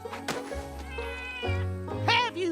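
A cartoon cat meows in a couple of drawn-out, wavering cries, close and clear, over a soft background hum.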